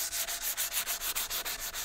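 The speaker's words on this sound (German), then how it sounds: "Wir nehmen hier unser Schleifpapier" Sandpaper rubbed by hand over a curved workpiece makes a quick, even run of about fifteen rasping strokes, close and clear with no talk.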